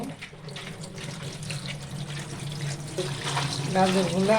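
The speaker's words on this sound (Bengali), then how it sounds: "বেগুনগুলো এখন ধুয়ে নিব।" A tap runs while eggplants are rinsed in a kitchen sink, a steady close splashing that grows louder and busier toward the end, with handling noise and a faint voice underneath.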